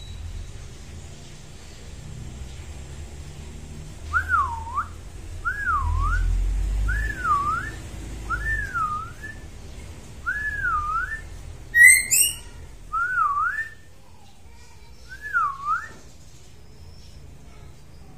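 A male magpie robin (murai) sings a string of clear, looping whistled phrases, repeated about eight times at steady intervals, with one brief higher chirp in the middle, loud and near over faint background noise.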